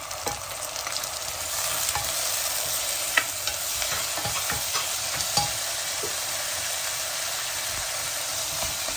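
Carrots, peas and grated tomato fry with onion in a pan for vegetable rice with cinnamon, stirred through a steady close sizzle with occasional scraping clicks of the spoon.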